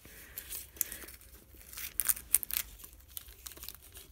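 Craft tape being cut off with scissors, a few quiet snips and crinkly tearing rustles at close range, scattered and irregular with no talking.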